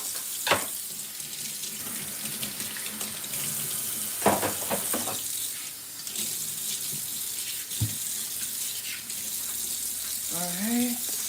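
Kitchen tap running steadily into a sink while vegetables are rinsed for a stir fry, a constant close hiss of water with a few clatters of dishes and brief faint voice sounds.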